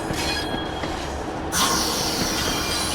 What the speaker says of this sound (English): I like that sound of the brakes releasing.